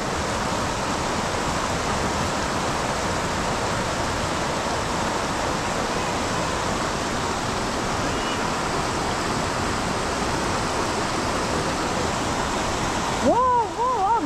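Steady, loud rushing water of a river at Port Hope where salmon leap upstream during the fall salmon run, a continuous broadband roar throughout, with a brief voice surfacing near the end.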